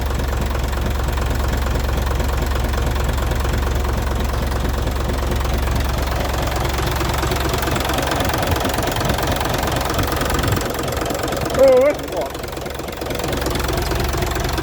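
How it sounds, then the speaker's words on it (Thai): A used Hino FC4J six-wheel truck with a 175 hp J07C diesel engine idles up close, a steady low rumble with a rhythmic knocking clatter that continues throughout. "เครื่องดีแน่นอนเลยครับเนี่ย"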